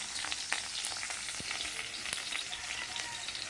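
Garlic sautéing in hot oil in a pan, slightly burnt, sizzles steadily and close with scattered sharp pops and crackles as it is stirred, with no voices.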